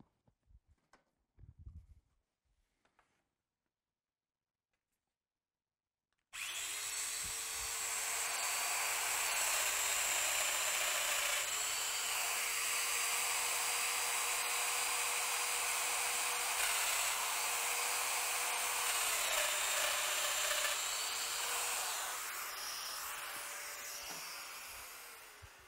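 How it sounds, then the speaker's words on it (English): A Festool router cuts holes in a wooden workpiece clamped on an MFT multifunction table: after a few soft handling knocks and a silent pause, a loud, steady high-pitched whine starts abruptly and runs for about twenty seconds, with slight pitch dips as it bites. "The first two holes have now been routed. Let's route the other two holes."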